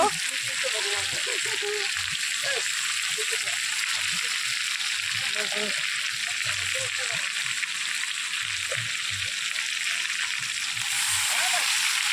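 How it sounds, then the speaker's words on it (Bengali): Mutton with ginger sizzles steadily as it is sautéed at an outdoor family picnic, a continuous broad hiss of frying running throughout, with scattered voices and background chatter heard faintly underneath. "মটন কষানো কিন্তু আজকে খুব টেস্টি হবে।"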